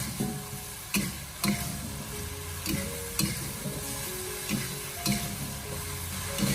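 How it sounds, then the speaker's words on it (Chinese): Green beans and eggplant stir-fried in a wok, giving a steady sizzle with repeated scraping stirs and clanks of the spatula at roughly one-second intervals, close and moderately loud. "然后再继续的把它翻炒几下，给它翻炒均匀"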